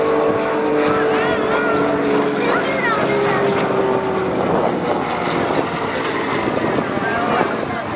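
A Pitts aerobatic biplane performs at the Biscarrosse air show, its engine droning steadily and loudly throughout with a shifting pitch as it manoeuvres, while a commentator talks over it.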